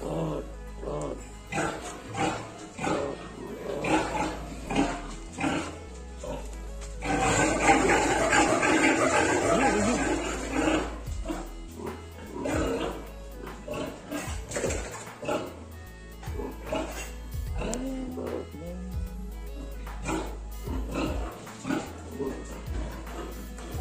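Native piglets squeal loudly during castration on a farm, a dense stretch of piercing cries in the middle, with grunts and voices talking around them throughout.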